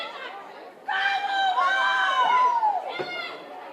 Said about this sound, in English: You could hear the crowd getting involved.